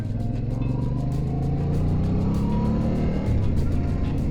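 A Yamaha motorcycle engine runs steadily while being ridden, its low harmonic drone rising and falling slightly as the bike accelerates, close and continuous throughout with no talk.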